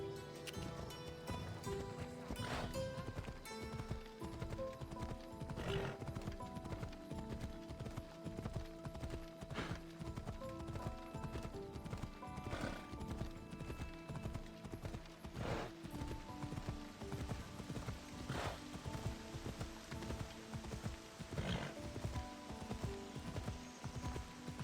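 A horse gallops in Assassin's Creed Odyssey, its hooves pounding in a fast, steady rhythm under a quiet bed of game music, with no clear neigh and no talking.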